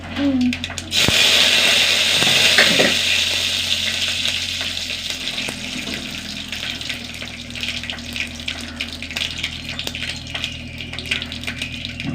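Mustard seeds and a couple of curry leaves hit hot coconut oil in a pan. A sudden loud burst of crackling sizzle starts early, then settles into a steady spattering hiss with popping ticks throughout.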